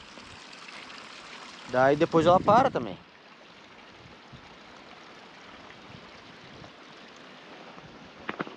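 Muddy rainwater runoff streaming across a flooded ranch after heavy rain, a steady low wash of flowing water running throughout, briefly covered by someone speaking early on.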